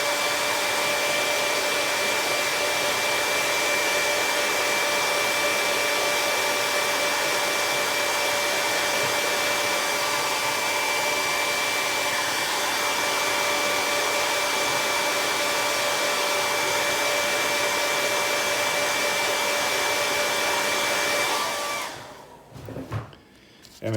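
A hair dryer blows steadily and loudly at close range over spray-painted color sample cards, a constant broadband roar with a fixed whine that runs without a break for about twenty-two seconds, then cuts off abruptly.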